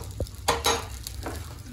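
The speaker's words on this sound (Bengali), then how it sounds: "একটু ডিম ভাজা কাঁচা লঙ্কা দিয়ে আজকে মা পান্তা খাবে।" Egg frying with green chilli in a home kitchen, steady sizzle with scraping stirs and a few brief clatters, close and continuous without talk.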